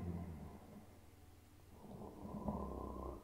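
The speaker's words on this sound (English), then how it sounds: "Oh, he's snoring." A creepy cat character from the Poppy Playtime Chapter 3 video game snoring, with deep, low rumbling breaths that rise and fall slowly, faint at first and then swelling louder.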